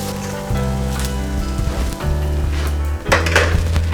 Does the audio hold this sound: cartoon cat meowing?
no